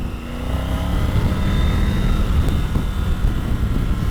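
A Rally Pro motorcycle with quick shifter revs hard as the rider guns it on a slick, salty surface, a loud sustained engine roar with rising tones running steadily throughout, no talk.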